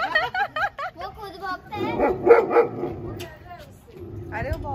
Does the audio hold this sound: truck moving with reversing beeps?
no